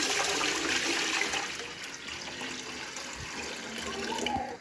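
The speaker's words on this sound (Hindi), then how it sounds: "खुले बर्तन में ज़्यादा सा पानी डाल लेंगे और इसे बॉयल करेंगे।" Water gushing steadily into an open pot for boiling rice for sweet mutanjan, a loud, continuous pour with no pauses and no voices.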